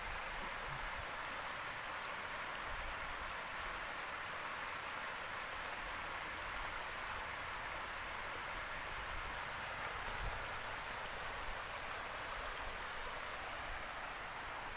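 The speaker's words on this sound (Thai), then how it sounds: "ครับน้ำก็จะล้นไปอย่างนี้นะครับ" Steady, broadband rush of water spilling over a small weir, continuous and fairly even throughout with no voices.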